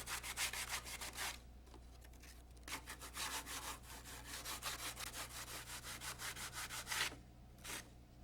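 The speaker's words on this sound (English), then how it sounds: "Fit the fiberglass winglet halves by trimming and sanding." Fiberglass winglet halves for a Rotorway Exec 162F helicopter being hand-sanded, a steady rhythm of rasping back-and-forth strokes with brief pauses, close and alone against a low background hum.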